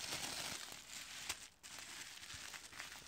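Bubble wrap being unwrapped from around a vintage New York Knicks bobblehead, a steady close crinkling and rustling of plastic that runs almost continuously, with a brief pause midway.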